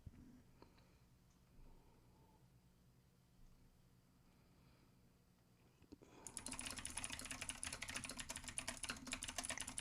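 Fast typing on a computer keyboard breaks out after about six seconds of near quiet, a dense close run of rapid key clicks that continues to the end.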